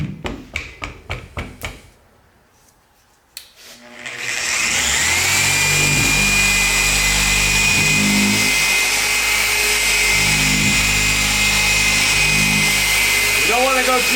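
A machine polisher buffs car paint with correction compound, starting after a few seconds of knocking and handling noise and then running as a loud, steady whine and hum that holds to the end.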